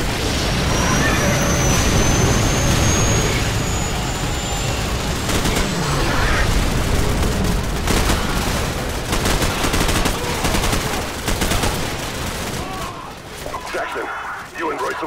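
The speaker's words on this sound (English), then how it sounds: "Suppression fire on that building!" Dense suppression gunfire in Call of Duty 4: Modern Warfare, a continuous loud clatter of automatic rifle and machine-gun bursts with scattered heavier blasts, while shouted voices call out over the fighting.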